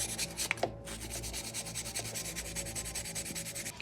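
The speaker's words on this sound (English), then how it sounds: "Let's go ahead and clean that with my stainless steel wire brush." Stainless steel wire brush scrubs metal parts inside a home furnace in quick, rhythmic back-and-forth strokes, a close, raspy scratching that repeats steadily with no talking.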